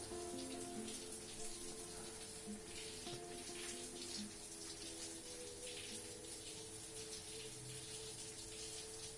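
A shower runs steadily in the video game Life is Strange 2, a continuous hissing spray of falling water with faint low tones beneath, even and unbroken throughout.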